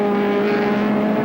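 A Nissan Skyline touring car roars around the Sandown circuit in the 1986 Castrol 500: a loud, steady engine drone holding a constant pitch through a short burst.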